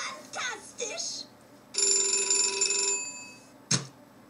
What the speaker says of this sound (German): Hier haben wir natürlich das Telefon.